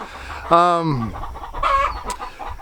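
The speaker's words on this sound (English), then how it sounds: "Yeah, they're doing the chicken song." Chickens and a rooster cluck in a farm hatching setting, with a loud drawn-out call followed by a second burst of clucking, close by, with faint voices in the background.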